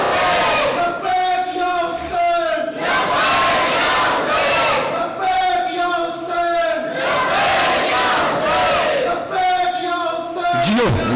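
Large mourning crowd at a Muharram majlis in Malegaon shouting loudly in unison, repeated chanted bursts in a steady rhythm filling the whole stretch, close and dense.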